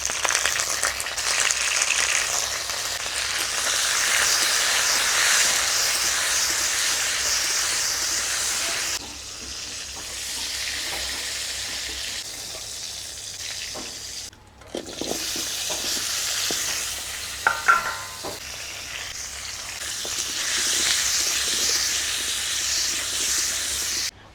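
Potatoes and pointed gourd fry in mustard oil in a village kitchen wok, a steady loud sizzle and hiss running throughout with brief stirring scrapes and a short dip in the middle.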